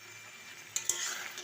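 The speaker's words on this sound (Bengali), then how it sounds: "ঢাকা দিয়ে দিয়ে মশলাটা একটু কষে নেব।" Spice masala frying in a pan for chicken curry, a soft steady sizzle broken by two quick clinks of a spoon on the pan and a short scrape.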